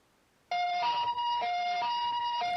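An ambulance siren starts abruptly and wails loud and close, its two tones alternating steadily without a break, with no voices over it.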